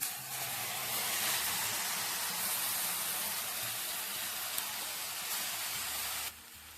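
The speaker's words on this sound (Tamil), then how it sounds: "புளி தண்ணி ஊற்றிக்கலாம்" Tamarind water poured into a hot pan for a green brinjal curry, a loud steady sizzling hiss that holds evenly for several seconds before dropping off abruptly near the end.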